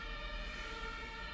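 A faint ambulance siren passes somewhere outside, a steady tonal wail heard through walls and low room noise.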